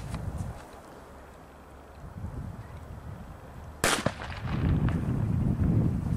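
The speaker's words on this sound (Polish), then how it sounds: "A potrójne echo to tak od petard Explosive 3 w górę." A large firecracker of Explosive 3 class or above is thrown far out and bursts over water: a single sharp distant bang, followed by rolling echoes and low rumble amid quiet outdoor background.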